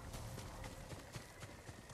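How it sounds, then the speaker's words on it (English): Horses galloping in the video game Ghost of Tsushima, a steady drumming of hoofbeats at moderate distance under a soft game backdrop, with no talk. "Horses, they're coming for us."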